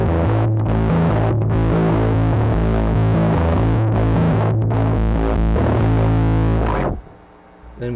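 An electric guitar runs through an Electro-Harmonix Battalion distortion pedal in pre-EQ mode, so the signal is distorted before the EQ section, giving a loud, dense, sustained distorted chord riff. It plays for about seven seconds, then cuts off abruptly.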